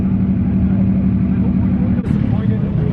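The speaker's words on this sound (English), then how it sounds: "car sounds insane" A modified car engine at a JDM car meet, the speaker's friend's BMW M4, runs loud and close with a steady droning rumble, a brief sharp burst near the end, and people talking nearby.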